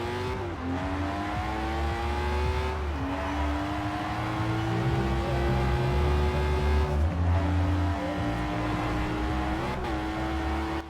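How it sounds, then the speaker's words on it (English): A stock 1994 Ford Transit Supervan 3 racing van from Forza Horizon 4 drives continuously, its engine note climbing through revs with several distinct gear-change drops, loud and steady with no speech over it. "let's go ahead and drive this thing stock and take a listen to how it sounds"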